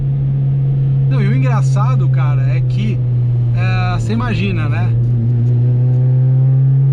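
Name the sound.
Subaru Vivio kei car exhaust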